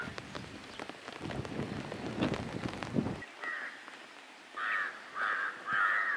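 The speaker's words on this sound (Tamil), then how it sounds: "நல்லா மழை பெய்யுது, விட்டு விட்டு விட்டு விட்டு மழை பெஞ்சிகிட்ருக்கு" Rain falls outdoors in the Ooty hills, a steady close patter on surfaces that thins out, while crows caw in short bursts near the end.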